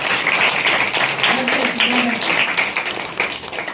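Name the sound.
audience applause for a child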